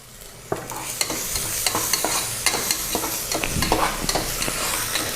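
Ginger-garlic paste sizzles with softened onions in a pan for mutton head gravy, a spatula scraping and knocking in an irregular rhythm over a steady, close fry hiss, with no talking.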